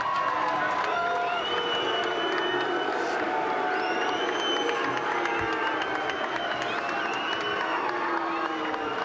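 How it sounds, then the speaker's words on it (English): A trackside crowd at the 2005 Supercars Phillip Island finale applauds and cheers during the race trophy presentation for Rick Kelly, a steady wash of clapping and whoops with scattered voices throughout. "How about a nice round of applause from the HSV dealer team for Rick Kelly?"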